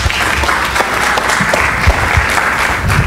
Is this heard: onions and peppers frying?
no